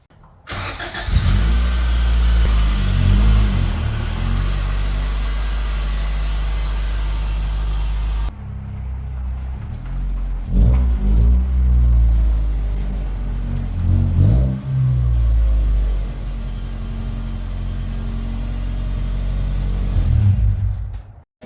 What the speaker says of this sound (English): now I'm going to flip the car around